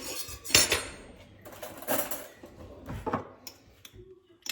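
A whipped cream mixture tinted with food colouring is stirred in a bowl, with a few clinking, scraping utensil strokes against the bowl spaced out over quiet gaps, close and without voices.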